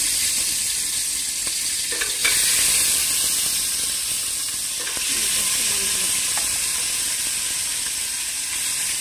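Potatoes frying in hot oil for veg biryani, a continuous loud sizzle and hiss with a few faint clinks and scrapes, no talking.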